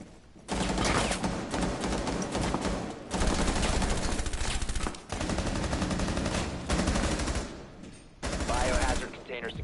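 Rainbow Six video game gunfire, several sustained loud bursts of rapid automatic fire separated by short pauses, close and dense, with some speech in between.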